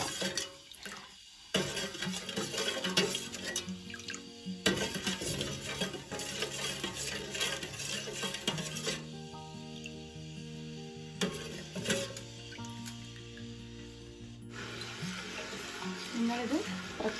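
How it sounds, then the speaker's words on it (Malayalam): Milk is stirred in a pan on the stove while heating for homemade condensed milk, with soft scraping and liquid swishing alongside clinks, under background music. "ഈ പാല് നന്നായിട്ട് തിളക്കുന്ന വരെ നമുക്ക് ഇങ്ങനെ ഇളക്കി കൊടുക്കാം."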